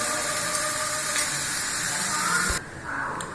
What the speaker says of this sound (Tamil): இப்போ இதை நல்லா வதக்கணுங்க.